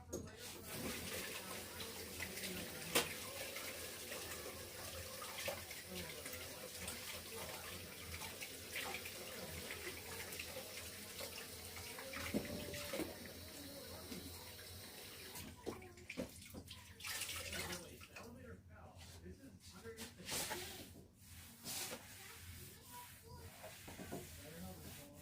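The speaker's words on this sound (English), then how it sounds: "Let me just wash my hands and grab a seat." A tap runs steadily as hands are washed in a home kitchen, a constant close hiss of flowing water that goes on throughout, with a bit of splashing toward the end.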